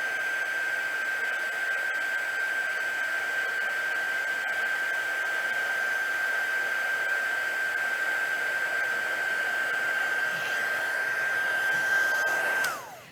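A heat tool blows a steady, even whoosh of hot air close by while melting embossing powder on a card, holding constant for several seconds before clicking off at the end.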